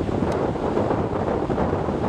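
A light east wind blows across choppy open water on a fishing outing, heard as a steady rushing wind buffeting the microphone with soft wave and boat noise underneath, no voices.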